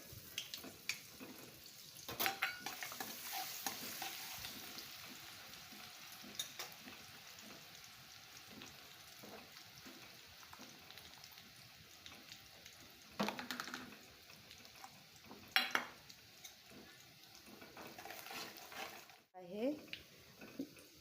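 Garlic frying in oil in a pan, a faint, low sizzle with occasional sharper bursts of stirring and clatter, heard under intermittent talk.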